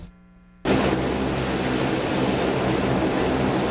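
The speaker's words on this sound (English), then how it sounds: "This C-130 plane is one of Hurricane Katrina's largest evacuees." A C-130 hurricane hunter aircraft at Ellington Field roars with loud, steady engine drone and a high whine that cuts in abruptly after a short quiet moment and holds unchanged.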